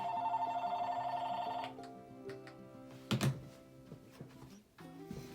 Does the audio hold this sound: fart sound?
no